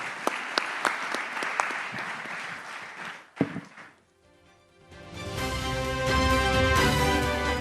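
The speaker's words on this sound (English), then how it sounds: "please join me in giving them a big round of applause" An audience at a News9 Global Summit panel session in the UAE applauds for about three seconds, with crisp claps close by. The clapping fades to near silence, and then loud stage music swells in.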